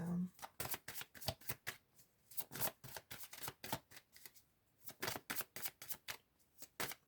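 Oracle cards are shuffled and drawn by hand in a run of quick, crisp riffling bursts, close and fairly loud, with a little talk mixed in between the shuffles.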